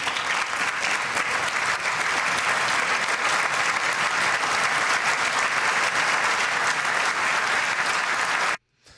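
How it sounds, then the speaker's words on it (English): Sustained applause from an audience in the chamber of Congress, a loud, dense wash of clapping that keeps going steadily and then cuts off abruptly near the end. "Some of the Democrats did stand and applaud that"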